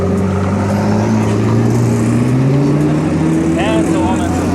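A McLaren P1 supercar pulls away on a Monaco street, its loud engine drone rising in pitch as it accelerates, up close with a speaking voice and busy street noise mixed in.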